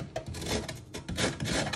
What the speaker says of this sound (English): Now you're going to grate your lemon zest using a grater.